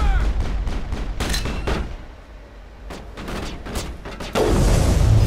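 Enemy gunfire in the video game Mass Effect, a rapid series of loud, close shots in bursts with a brief lull before a heavier blast near the end, with no speech over it.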